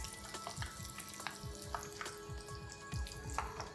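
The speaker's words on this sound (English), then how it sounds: "The oil is also well heated. Time to fry this now." A chicken Kiev fries in hot oil, with a constant close bubbling sizzle and small spitting pops throughout, fairly quiet and steady.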